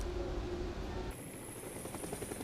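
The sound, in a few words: helicopter flying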